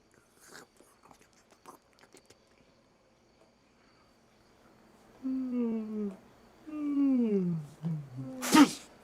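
A single sharp sneeze bursts out near the end, loud and close, just after a few short voiced sounds, with quiet pauses earlier on.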